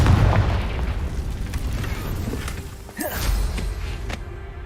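A Confringo blasting curse explodes in the Hogwarts Legacy video game, a heavy boom and rumble followed by a sharp crackling blast partway through, loud over game ambience.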